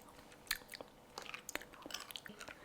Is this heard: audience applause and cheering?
no